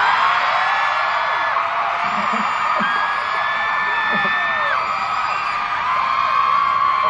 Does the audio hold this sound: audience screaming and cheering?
yes